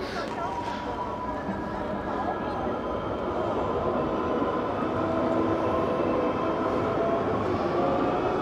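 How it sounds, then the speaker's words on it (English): Tram pulling in on a street in Bremen, Germany, a steady loud rumble and rolling rail noise close by that holds for the whole stretch, with no talk over it. "The tram is coming."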